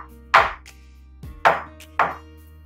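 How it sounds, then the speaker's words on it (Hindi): A mould filled with vegan walnut coffee chocolate brownie batter is knocked on a counter three times, giving sharp, close, hollow thuds spaced about a second apart. "देखिए ट्रांसफर करने के बाद हम एक से दो बार टैप कर लेंगे।"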